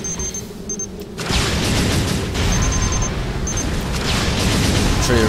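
Rocket blasts pound a turret in the shooter Unreal 2, a loud rumbling barrage starting about a second in and holding as a dense, continuous roar of explosions, with faint electronic beeps before and over it.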